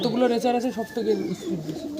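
Racing pigeons in a loft coo in low, rolling calls close by, heard beneath someone talking steadily throughout.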